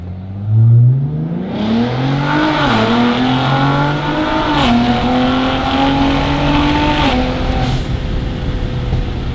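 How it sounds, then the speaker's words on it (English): A Ford Explorer ST's V6 engine with aftermarket mufflers revs hard and close beside buildings, a raspy, aggressive exhaust note climbing and settling in waves, with a sharp burst near the start. "the exhaust experience is like, kind of has a really knife-edged, aggressive V6 sound"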